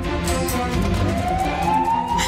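An ambulance siren wails with a rising tone over steady traffic noise, loud and fairly near.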